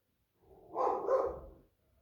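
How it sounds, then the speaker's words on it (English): A single short dog bark, somewhat distant and muffled, rising and fading within about a second. "Sorry about the barking dog."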